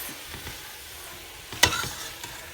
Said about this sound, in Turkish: Yine kavuruyoruz. Bir 5 dakika kadar kavurmamız gerekiyor fasulyeyi bu aşamada.